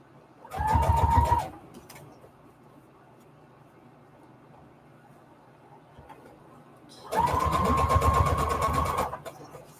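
A sewing machine stitching pieces of book-page paper together runs in two loud close bursts, a short one and then a longer one, separated by a quiet pause with faint background noise.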